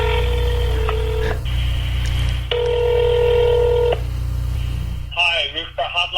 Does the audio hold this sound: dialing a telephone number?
yes